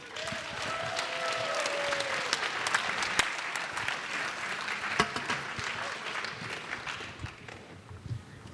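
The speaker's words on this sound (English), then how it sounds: "Round of applause for Keri." A live event audience in Fort Worth applauds warmly for several seconds, a full, steady wash of clapping with a few sharp louder claps, gradually thinning toward the end, with a brief voice heard early on.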